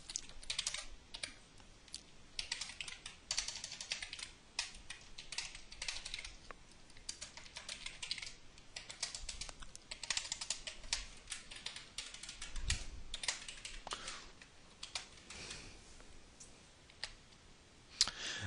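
Code being typed on a computer keyboard, with quick, irregular key clicks rattling along steadily and fairly close for the whole stretch, and no voices.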